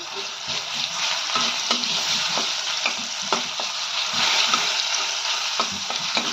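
Ground green chili sizzles and fries steadily in hot oil with ginger-garlic paste in a pan for a Gujarati frankie filling, a close, continuous crackle broken by occasional stirring clinks.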